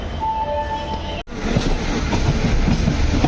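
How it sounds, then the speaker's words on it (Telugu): The Gitanjali Express pulls away from Santragachi Junction toward Howrah with a close, loud rumble and clickety-clack of the coaches. Brief tonal squeals come early, then a sudden dropout, and a steadier rolling rattle follows. "ఇప్పుడే మన ట్రైన్ సాంత్రగచ్చి జంక్షన్ నుండి అయితే స్టార్ట్ అయింది."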